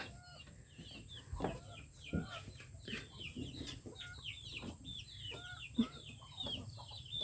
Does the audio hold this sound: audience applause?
no